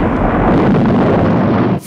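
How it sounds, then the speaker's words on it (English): Small explosions from a toy rocket or plane launch, a loud continuous rumbling blast filling the clip before cutting off abruptly near the end. "Oh, we still got some more explosions"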